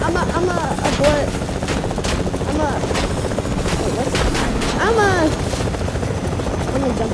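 Gunfire in a loot-based shooter video game, dense bursts and rapid shots running throughout alongside helicopter-like rotor noise and other game sounds, loud and continuous.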